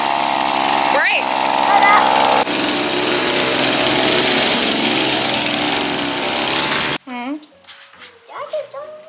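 Small dirt bike engine revving at a park, a loud buzzing high-pitched drone with throttle blips, cutting off abruptly near the end, followed by someone talking close by.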